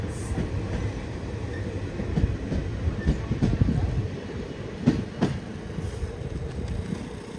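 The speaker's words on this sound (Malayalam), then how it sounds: "ഇന്റർസിറ്റി എക്സ്പ്രസ് ഇതാ നീലേശ്വരം റെയിൽവേ സ്റ്റേഷനിൽ നിന്ന് പുറപ്പെട്ടിരിക്കുകയാണ്." An Intercity Express pulls out of Nileshwaram railway station, its steady low rumble of wheels and carriages rolling close by and continuous throughout, with faint clicks over the rails.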